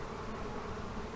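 A swarm of honey bees in an old hive makes a dense, continuous buzzing hum, close and steady for the whole moment, with no voices.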